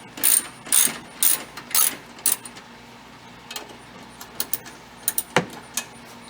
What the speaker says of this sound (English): there is a nut that we have to take off of a J-bolt